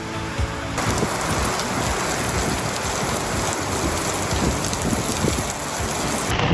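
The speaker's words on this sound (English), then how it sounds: "It's raining hard." Heavy rain pours down hard and sideways at a car wash, a loud, dense, steady roar of drops hammering surfaces that carries on unbroken with no voices.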